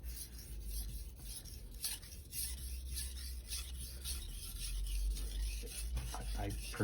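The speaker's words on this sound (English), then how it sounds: "I personally enjoy sharpening it this way as opposed to pulling it towards me." A knife being sharpened on a Naniwa combination whetstone of 1000/3000 grit, with repeated close, gritty rasping strokes of steel over stone in a steady rhythm.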